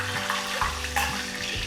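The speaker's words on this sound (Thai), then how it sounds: "คราวนี้เดี๋ยวผมทำการทอดด้านอื่นด้วยนะครับ" Crispy pork belly deep-frying in hot oil, a constant close sizzling hiss with small pops and crackles over a low steady hum.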